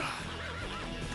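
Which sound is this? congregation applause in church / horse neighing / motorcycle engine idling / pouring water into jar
horse neighing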